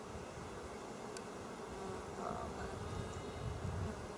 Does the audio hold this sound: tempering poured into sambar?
no